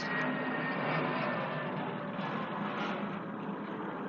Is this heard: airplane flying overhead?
yes